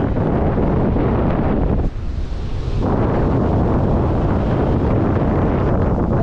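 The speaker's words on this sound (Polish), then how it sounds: "Ale te fale i wiatr jest dzisiaj potężny." Strong wind buffets the microphone on the Mediterranean Sea coast, a loud continuous roar with crashing surf underneath and a brief lull near the two-second mark before the gusts return at full force.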